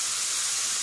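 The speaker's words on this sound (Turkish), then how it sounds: "kuru soğanı ilave ettim ve şu anda şöyle pembeleşmeye devam ediyor" Diced onions and green peppers frying in olive oil in a pan give a brief, bright, even sizzling hiss, close and steady throughout.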